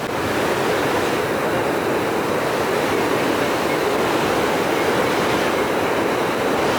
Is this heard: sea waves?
yes